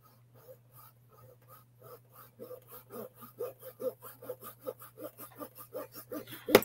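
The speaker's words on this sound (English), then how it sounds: "I'm just going to lay this saw right in here along the side" Small hand saw cutting a plastic part off a model kit sprue, starting with faint light strokes that grow into a quick, steady series of close, soft rasping passes and ending in a louder final scrape.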